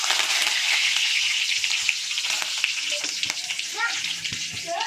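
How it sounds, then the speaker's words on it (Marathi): Mustard seeds, cumin and curry leaves sizzle and crackle steadily in hot oil in a home kitchen, a loud, close, continuous fry with sharp popping spatters throughout. "तेल छानपैकी गरम झालेलं आहे. थोडीशीच मोहरी टाकते याच्यामध्ये, थोडं जिरं आणि थोडं कढीपत्ता."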